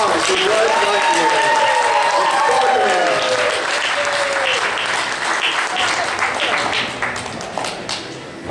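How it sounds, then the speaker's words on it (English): Sustained crowd applause fills a costume contest at a fan convention, loud and continuous throughout, with an announcer's voice faintly mixed in near the start. "Another round of applause for Brett Blackmore"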